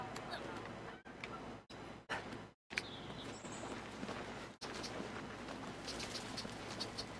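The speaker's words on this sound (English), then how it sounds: "Move, birds." Bird calls in the game Brothers: A Tale of Two Sons, short chirps and coos with fluttering patter against ambient game sound, broken by brief gaps, with a person talking.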